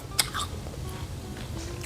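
Air-fried chicken skin and cartilage being chewed up close, with one crisp bite near the start followed by softer, steady mouth sounds in a quiet room.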